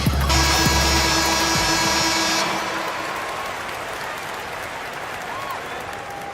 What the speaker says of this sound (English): Please, a big round of applause for your Spirit Dance team